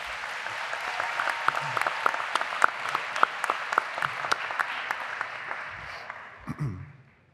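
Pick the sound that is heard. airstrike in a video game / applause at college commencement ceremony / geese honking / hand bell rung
applause at college commencement ceremony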